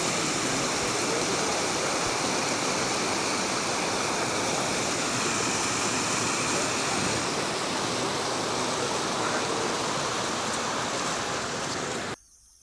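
Steady, loud rush of river water flowing through a flood-affected village in Assam, a continuous broadband roar that holds without break for about twelve seconds before cutting off abruptly.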